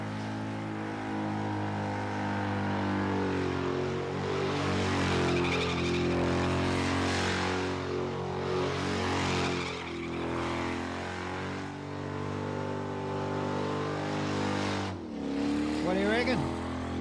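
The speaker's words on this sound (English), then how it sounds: "Burnout pit, 360s coming your way," Burnout cars spinning 360s in a burnout pit at the Summernats car festival, engines screaming and revving hard in long wailing surges, loud and close, with a sharp squeal and a final rev near the end.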